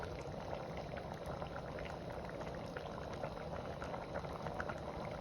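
Olives, garlic and fennel cook in canola oil for a tomato sauce, giving a dense, steady bubbling sizzle close up with no pauses and no talk.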